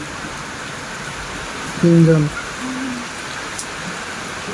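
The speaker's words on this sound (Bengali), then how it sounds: "এরকম ভরপুর বৃষ্টির ভিতরে ওরা ছাদে গোসল করতেছে" Heavy rain pouring steadily over a village rooftop where people are bathing, a loud constant wash of noise with a brief spoken word partway through.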